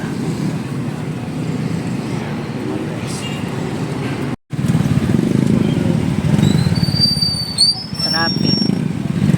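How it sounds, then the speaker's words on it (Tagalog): Busy road traffic heard from a tricycle in the Philippines: a steady, loud rumble of engines and motorcycles with a brief dropout midway, a few faint horn-like tones near the end, and a voice talking over it. "Traffic."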